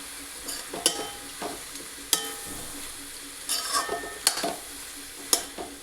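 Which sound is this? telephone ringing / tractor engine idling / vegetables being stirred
vegetables being stirred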